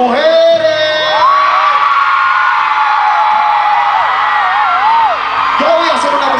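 A large outdoor concert crowd at a reggaeton show, with women screaming and whooping loudly and continuously, a dense sustained roar of high shrieks and yells filling the whole stretch.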